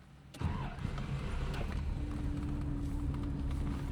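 A 1988 Rolls-Royce Silver Spirit 6.7-litre V8 starts with a key and a quick catch, then settles into a steady, fairly close idle that continues to the end.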